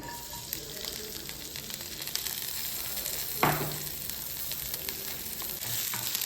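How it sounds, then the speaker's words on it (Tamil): Sliced onion sizzles and fries steadily in hot oil, with a brief louder hiss midway as something is stirred or added. "இப்போ சீவி வச்சுருந்த அரை வெங்காயத்தை மட்டும்தான் இப்போ சேர்த்து தாளிக்கிறோம்"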